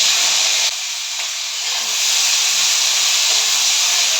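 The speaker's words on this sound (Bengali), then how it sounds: "কড়াইতে আমি তেল দিয়ে দেবো, সর্ষের তেল। কালো জিরে নিয়ে নিয়েছি, ওর মধ্যে দিয়ে দেবো সবজিগুলো, গাজর বিনস এগুলোর মধ্যে দিয়ে দেবো।" Carrots and beans sizzling in hot mustard oil with black cumin in a kadai, a loud, dense hiss that briefly dips before surging back steady and close.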